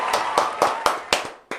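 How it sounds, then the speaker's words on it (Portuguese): Sparse, close hand clapping for a guest doctor at a breast cancer talk, five or six distinct claps in a loose rhythm, with no talking over them. "uma salva de palmas para o Dr. Fernando Pontes"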